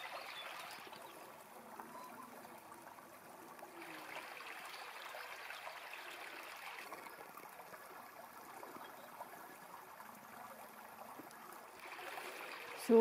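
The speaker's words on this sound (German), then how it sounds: "Noch ein bisschen Wasser plätschern." Water gently splashing and trickling in a stream on a quiet morning outdoors, a soft continuous babble at low level with no voices.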